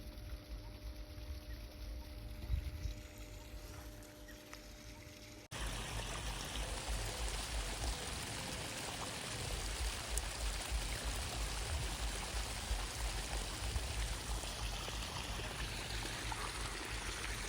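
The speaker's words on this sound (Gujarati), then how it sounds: "પાણીનો અવાજ સંભળાય તમને" A continuous rushing gush of water pouring out from a farm motor pump, steady and fairly loud after a quieter start, with no voices.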